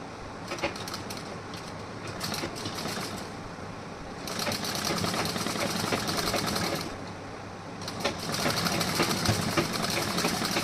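A sewing machine stitches a blouse in several bursts of steady, close running, with short slower stretches between the runs.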